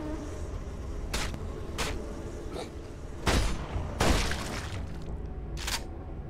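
In the video game Deep Rock Galactic, bees buzz around a beehive, making a fluttering insect drone broken by several sharp bursts of game noise, with the loudest crashes near the middle.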